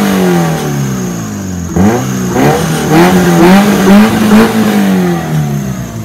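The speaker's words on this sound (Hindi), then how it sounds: "अगर एग्जॉस्ट का नोट आप लोगों ने देखना है" A Maruti Gypsy idling on half choke is blipped several times in quick succession, its exhaust note rising and falling in loud, close revs with no talk over it.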